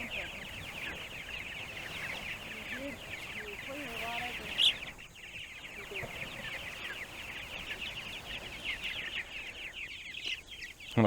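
Pastured farm birds call in a dense, continuous chorus of chirps and clucks, fairly close and steady throughout, with people talking intermittently underneath.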